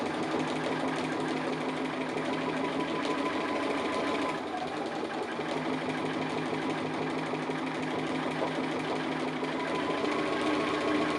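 A sewing machine running steadily while stitching double lines on a house applique design, a close, continuous, rapid mechanical whir with a slight dip midway and no talking.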